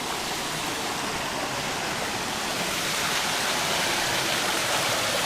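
Water supplied by a mountain spring pours into a waterfall in Japan, producing a steady, close, loud rushing splash that stays constant throughout without talk.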